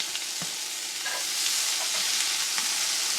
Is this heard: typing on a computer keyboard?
no